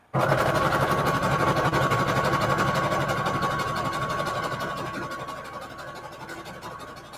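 A sewing machine runs steadily at close range, stitching along a fabric edge to keep it from fraying, its motor hum continuous for several seconds before easing slightly toward the end.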